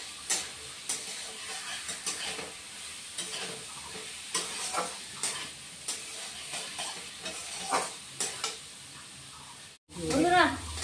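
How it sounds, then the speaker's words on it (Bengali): Vegetables sizzle in a pan while being sautéed for a fish curry, a soft steady frying hiss broken by repeated stirring scrapes, ending with a brief voice speaking. "একটু কষে নিব।"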